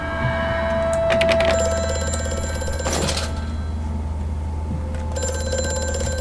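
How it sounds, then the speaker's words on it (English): A telephone bell rings in Amnesia: A Machine for Pigs, fairly loud clattering rings in short bursts over a steady low hum, with no voices. "Oh, phone."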